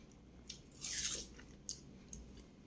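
Close, quiet bites into a sweet yellow watermelon: a juicy crunch swells mid-clip, followed by soft wet chewing clicks, with no one talking.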